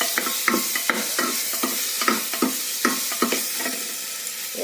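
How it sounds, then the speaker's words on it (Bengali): Ginger paste with spices and salt fried and stirred in a pan: rhythmic scraping strokes of a spoon over a continuous close sizzle, repeating every half second or so. "ভেজে নিই"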